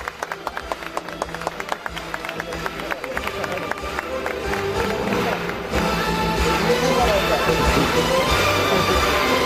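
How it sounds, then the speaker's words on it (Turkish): Applause rises at a dinner gathering: scattered claps at first, then thickening into a loud, steady round of clapping and crowd noise that swells and holds to the end, with voices mixed in. "Kocaman bir alkış."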